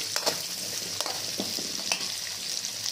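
Fenugreek seeds frying in oil for fish curry and being stirred, a steady soft sizzle with light scraping taps of a spoon scattered through, close and fairly quiet, with no talking.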